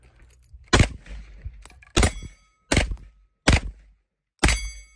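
MKE AP5 pistol-caliber shots ringing off a steel target, five sharp loud bangs with metallic rings spaced about a second apart, heard close with short silent gaps between.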